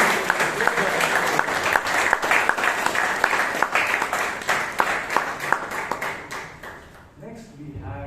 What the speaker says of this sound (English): we all must give a loud applause to Toastmasters.